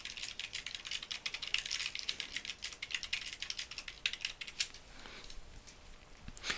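Rapid, irregular clicking of typing on a computer keyboard while writing plain text in Mathematica 8, steady and close with no talking.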